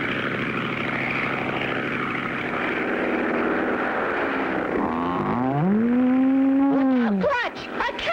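A small propeller airplane in a cartoon drones steadily, then its engine pitch swoops down and back up as it banks and passes close, loud and alone without talk.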